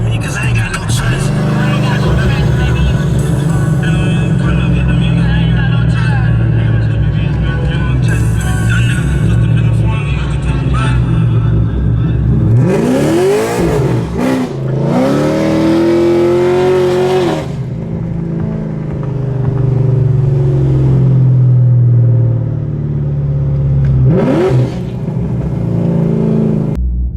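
A cammed Pontiac G8 idles with a choppy, lumpy note under loud music playing in the car, then revs hard in two sharp bursts midway and once more near the end.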